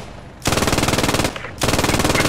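A machine gun in the Post Scriptum World War II shooter fires two long, loud bursts of rapid, evenly spaced shots, separated by a short gap.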